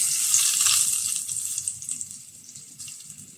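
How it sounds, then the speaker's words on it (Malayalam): Hot curry-leaf tempering poured over pumpkin pachadi, giving a steady bright sizzling hiss that slowly fades over a few seconds, close by with no voices. "അപ്പോൾ ഫ്ലെയിം ഓഫ് ചെയ്ത് കൊടുക്കാം വറവ് നമുക്ക് ഇതിൻ്റെ മുകളിലോട്ട് വെച്ചെടുക്കാം"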